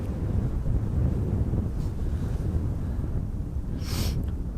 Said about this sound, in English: now it's all windy again.